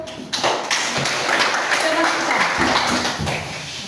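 A classroom of students claps together for a round of applause, a dense, steady patter of many hands that starts abruptly and carries on under a murmur of voices.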